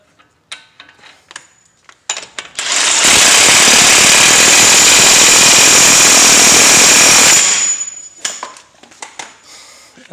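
A loud, continuous power-tool burst of about five seconds drives the front CV axle nut on a Chevy truck or SUV (Silverado, Tahoe, Denali, Escalade, Avalanche), framed by short clanks and handling noises before and after.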